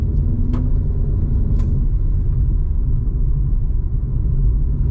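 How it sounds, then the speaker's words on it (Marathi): A workers' transport vehicle drives along the Malshej Ghat road, its engine a steady low rumble throughout, with a couple of brief faint higher clicks or squeaks near the start. "ही कामगारांची गाडी आहे, सकाळी सोडायला येतात आणि पुन्हा संध्याकाळी न्यायला येते कामगारांना गाडी"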